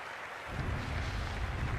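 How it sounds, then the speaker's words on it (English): Stadium crowd at a cricket match in the Cricket 24 video game, a dense, steady roar that swells slightly and holds constant throughout. "It's a fantastic crowd in today."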